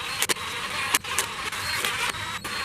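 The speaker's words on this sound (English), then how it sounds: "I'm just going to run these bolts in with my impact" An impact wrench runs in the engine bearing cap bolts during a Honda Del Sol engine assembly, giving several short, sharp rattling bursts over a steady mechanical hiss, close and fairly loud.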